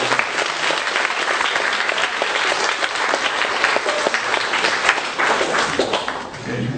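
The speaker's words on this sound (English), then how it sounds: "let's give them a big round of applause" Sustained audience applause at an awards ceremony, steady and dense throughout, a large crowd clapping close by without pause.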